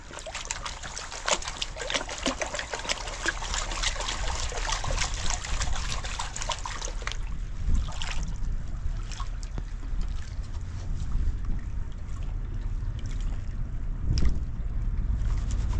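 River water trickles and splashes nearby during gold panning among boulders, a continuous bright babble that softens partway through, with occasional sharper splashes.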